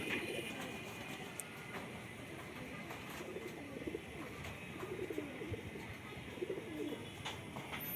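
Giribaj pigeons coo softly in low, repeated phrases under a steady outdoor background hiss, with faint scattered clicks and no clear talking.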